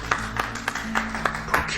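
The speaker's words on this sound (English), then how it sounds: "Let's give her a round of applause" An office welcome for a new procurement supervisor, with scattered claps in an uneven rhythm that sounds like a small group applauding close by.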